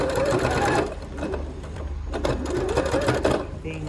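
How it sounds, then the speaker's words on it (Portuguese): Sewing machine stitching a fabric bread basket: a close, loud, fast mechanical whir that pauses briefly in the middle and then resumes, with a voice talking over it. "dou um retrocesso e continuo passando a costura bem na pontinha."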